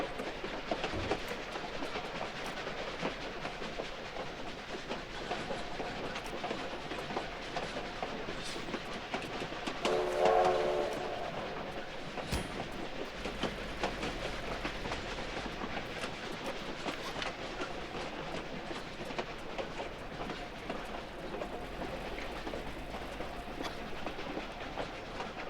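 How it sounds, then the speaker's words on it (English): A train rolls along in Tomb Raider 4, its steady rumble and rail clatter running continuously at an even, fairly loud level with no voices. "That's just the sound of Laura exiting the train."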